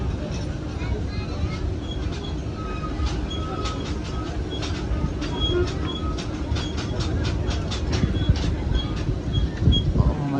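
Shalimar Express train on the Lahore to Karachi line pulling out, a steady low rumble with clicking wheels and brief metallic squeals, heard close from on board, with people talking over it.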